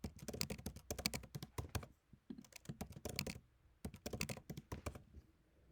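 Keyboard keys clatter in fast bursts of close typing while account details are entered, with short pauses between runs and no voices.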